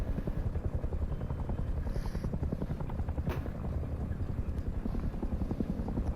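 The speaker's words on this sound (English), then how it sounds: "This patrol helicopter keeps coming over." A patrol helicopter in the video game Rust passes overhead, its steady rapid rotor thumping loud and continuous throughout.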